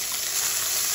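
Onion and tomatoes sautéing in a pan, a short burst of steady, close hissing sizzle.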